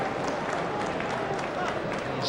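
Football crowd at a Celtic v St Mirren match applauds a player leaving the pitch; a continuous, distant wash of clapping under stadium noise, brief and even.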